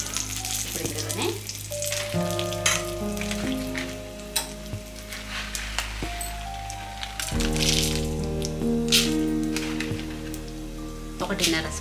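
Coriander seeds and cumin sizzle steadily in half a spoon of hot oil while tomato pickle is being made, a soft continuous crackle running under sustained background music.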